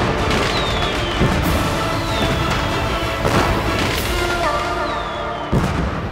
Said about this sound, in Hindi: अरे अब बंद करो आतिशबाजी।